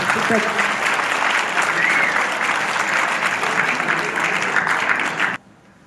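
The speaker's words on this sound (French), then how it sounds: "je veux un tonnerre d'applaudissements pour Noé, Sarah et Fiona." Loud, sustained audience applause, thick and continuous, then cutting off abruptly near the end.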